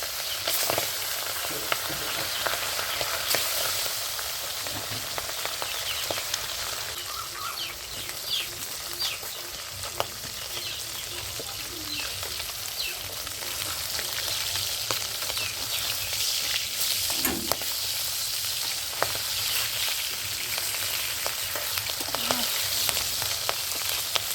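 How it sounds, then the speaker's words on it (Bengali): Pabda fish rubbed with salt and turmeric fries in hot oil, with a continuous close sizzle dotted with sharp crackles and pops throughout. "তেল গরম হয়ে গেছে, মাছটা ভেজে নিচ্ছি।"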